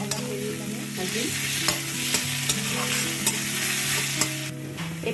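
Onions and ginger garlic paste fry in a pan, a close, steady sizzle with frequent spoon stirring and occasional light clinks, and no one speaking.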